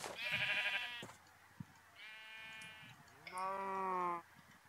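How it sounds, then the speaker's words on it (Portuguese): Sheep in the Minecraft video game bleat three times, each a drawn-out wavering baa separated by short pauses, clear and alone with no talk over them. "Só acho ovelha. E ovelha e mais ovelha."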